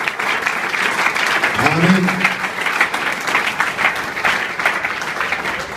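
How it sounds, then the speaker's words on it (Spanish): A church congregation applauds the Lord Jesus in a dense, sustained wash of clapping with scattered cheers, while one voice briefly speaks over it partway through. "Un aplauso para el Señor Jesús en este momento"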